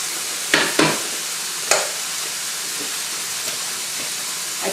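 A pot of potatoes boiling over on a stovetop, giving a steady hiss and sizzle as water spills onto the hot surface, broken by a few sharp spitting bursts, close and moderately loud.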